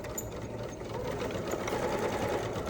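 Sewing machine running a quick back stitch along the edge of fabric, a steady rapid mechanical whir heard alone at low volume.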